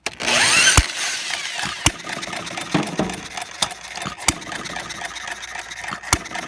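A half-scale hit-and-miss model engine is started by hand with a drill and then runs on its own. A loud burst of whirring at the start gives way to a steadier running sound, broken by sharp single firing pops at intervals of a second or two.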